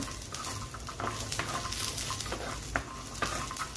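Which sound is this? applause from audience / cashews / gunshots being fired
cashews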